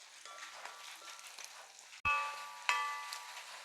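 Garlic, green chillies and curry leaves frying in a pan for fish pickle, a faint steady sizzle that jumps louder as more goes into the hot oil, then keeps crackling, with no talking.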